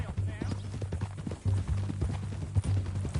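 Horse hooves clip-clop at an unhurried walking pace in a Western-style video game, steady and fairly close, with a low ambient hum beneath and a few faint rustles.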